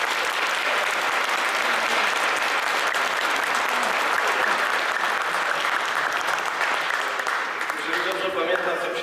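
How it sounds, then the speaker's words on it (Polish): A concert audience in Krzepice, Poland claps steadily in a dense, continuous burst of applause that thins and fades near the end, with a voice beginning to speak as it dies down. "Duże brawa."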